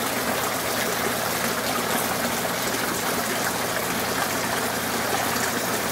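Water flowing through an aquaponics grow bin and siphon tube, a steady broadband rush and trickle that holds even and close for the whole stretch, with no voices.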